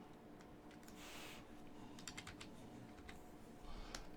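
Keys on a computer keyboard are tapped in a short, quiet burst of clicks while a value is entered, over a faint steady background hum.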